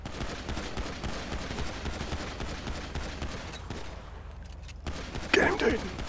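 Rapid bursts of automatic gunfire from a GTA 5 roleplay shootout crackle densely and continuously, with a louder burst near the end and voices talking over the shooting.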